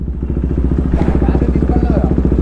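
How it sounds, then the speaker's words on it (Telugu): Motorcycle engine freshly started after sitting unused for 10 days, idling close by with a rapid, even chugging pulse that stays loud and steady throughout. "ఆఫ్టర్ 10 days మన బైక్ని అయితే స్టార్ట్ చేస్తున్నాం మళ్ళీ"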